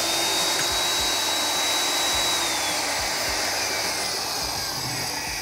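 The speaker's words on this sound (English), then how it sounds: "we've just drilled an inch and a 16th diameter hole through about half inch thick structural steel" Hougen HMD 904 magnetic drill boring an inch-and-a-sixteenth hole through half-inch structural steel, a loud continuous high motor whine with steady grinding and faint periodic thumps underneath, no talking.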